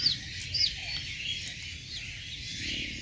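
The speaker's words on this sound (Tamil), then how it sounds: "அந்த குஞ்சு கத்துறது நல்லாவே கேட்குது" A newly hatched chicken chick gives a few short, high chirps over a faint, steady background hiss at a poultry hatching setup, with the brief peeps clustered early and then fading into quiet ambience.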